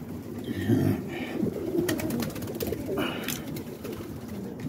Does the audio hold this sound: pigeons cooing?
yes